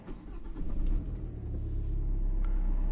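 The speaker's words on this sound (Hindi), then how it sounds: "इस गाड़ी को स्टार्ट करूँगा" A 2020 Hyundai i20 diesel engine fires up and settles into a steady, low idle rumble, heard close and alone with no talking.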